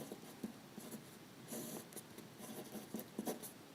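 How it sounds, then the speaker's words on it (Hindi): Handwriting with a pen during a maths lesson: faint, close scratchy strokes in short irregular bursts, with no talk over them. "यहाँ पे मैं लिख दे रहा हूँ"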